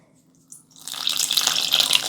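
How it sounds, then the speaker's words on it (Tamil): Water is poured into ragi paniyaram batter, starting after a short quiet moment and building into a steady, close splashing stream. "இந்த டைமில் பார்த்தீங்கன்னா தண்ணி ஊற்ற போகிறோம்"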